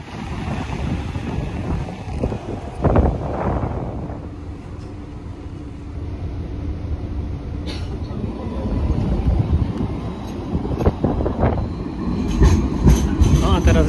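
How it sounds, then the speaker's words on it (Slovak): A train rolls along the rails in Sydney, Australia, a loud rumbling with rattling and clanking, wind buffeting the microphone, and scattered clicks and squeaks as it moves. "Idem na vlak sem do Lava."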